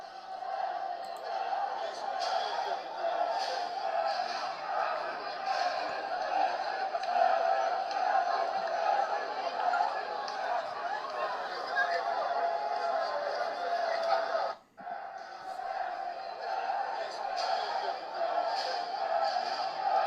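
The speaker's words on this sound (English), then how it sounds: "huge crowd" A large outdoor crowd waits for Lukaku's arrival, a continuous dense murmur of chatter and scattered shouts, broken by one brief dip before the hubbub resumes.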